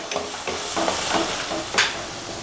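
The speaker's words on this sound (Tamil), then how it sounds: "தக்காளியோட பச்சை வாசம் போகிற அளவுக்கு இதை நல்லா வதக்கி விடலாம்." Tomatoes sautéing in oil for Srirangam-style vatha kuzhambu, a steady sizzle close by with repeated spoon stirring scrapes at an even pace and no talking.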